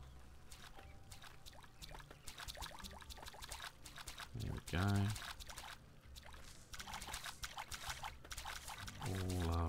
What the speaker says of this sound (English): Let's water it now.